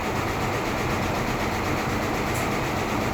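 A Singer portable sewing machine fitted with an added motor runs in a steady loud whirring drone with a fast rattling texture, heard alone without talk.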